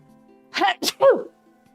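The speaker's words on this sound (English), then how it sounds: "I'm gonna sneeze." A single sneeze up close, with a quick sharp build-up of breaths before the burst, in an otherwise quiet room.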